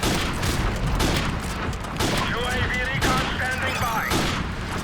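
Rapid, dense gunfire from Call of Duty Modern Warfare 2 played with the H2M mod, loud and continuous with several bursts of shots layered over game effects, with speech underneath.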